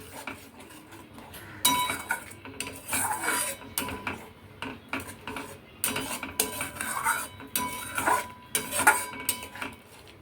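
Spoon clinking and scraping in a pan as dissolved Amul milk powder is stirred into egg korma, a run of bright metallic taps and scrapes in bursts, fairly close, with no voice.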